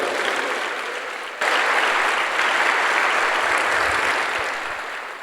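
A congregation applauds steadily in a church, the dense clapping swelling slightly after a moment and holding for several seconds before easing off.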